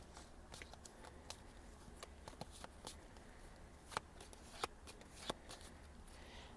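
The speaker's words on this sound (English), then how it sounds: "So let's just shuffle these a little bit." A deck of oracle cards is shuffled quietly by hand, making a steady soft riffling with a few sharper snaps of cards near the end.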